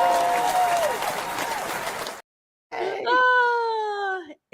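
A canned applause effect plays in a talk-show studio: a loud burst of crowd clapping and cheering, a brief silence, then a second rising whoop-like cheer that cuts off abruptly.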